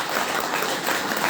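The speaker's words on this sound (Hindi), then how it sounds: "जोरदार तालियों से स्वागत करें" Dense, steady clapping from a seated audience at a political sector-officials meeting, welcoming party officials; a continuous broadband wash with no voices over it.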